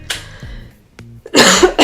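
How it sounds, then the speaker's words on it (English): A person coughs repeatedly while recovering from the flu: a couple of short coughs early on, a brief one near the middle, then a harsher, louder burst of coughing at the end, close to the mic. "I had the flu like 3 weeks ago or 2 weeks ago, and I'm still coughing."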